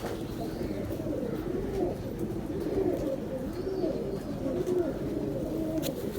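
Pigeons coo repeatedly in low, rolling phrases over a steady background hum, several birds overlapping at close range with no talk.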